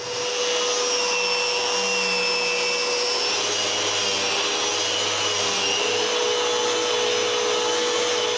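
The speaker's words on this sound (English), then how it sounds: "I always begin the sanding in aggressive rotex mode" A Festool Rotex orbital sander runs in aggressive rotary mode over glued-up solid pine panels, giving a loud, steady whine with a constant hum beneath and no breaks or speech.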